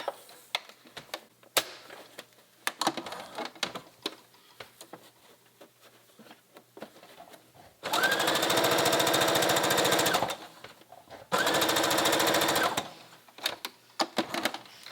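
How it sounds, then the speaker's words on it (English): A sewing machine top stitches a gap on a pleated woven blouse, running in two sustained bursts of a few seconds each after scattered clicks and handling noises; close and fairly loud, with no talking. "I'm going to feed it right through, change back to my regular stitch, and top stitch that gap."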